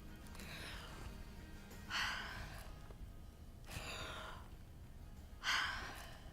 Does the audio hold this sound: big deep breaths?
yes